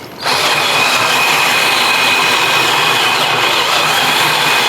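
A cordless battery drill bores steadily through material for a homemade lawn aerator, its motor whining at a constant pitch from start to finish after a brief quiet moment, loud and close with no talking.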